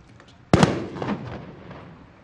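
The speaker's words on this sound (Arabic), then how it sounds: "سوف نستمع الآن إلى صوت انفجار يعبر عن تشتيت" A single loud, sharp blast from a counter-explosive drill at a police academy graduation ceremony, disrupting and disabling an explosive device, rings out close by and then fades into a rumbling decay over about two seconds.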